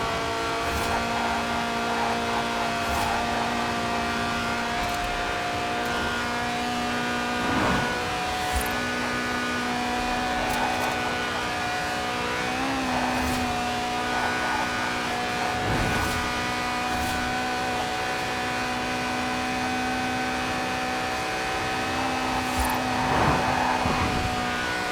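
A Lotus with a 1.8-litre engine revving to 8,000 RPM in Forza Horizon 4 holds a loud, sustained engine howl with steady harmonic tones, brief dips at gear changes and occasional tire noise, and no voices over it.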